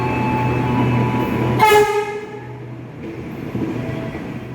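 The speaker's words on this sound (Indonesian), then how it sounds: "KRL yang aku nantikan sudah tiba di stasiun Purwosari" A KRL commuter electric train rumbles steadily nearby as it arrives at Purwosari station, Indonesia, its electric hum continuing as a brief high-pitched horn blast sounds partway through.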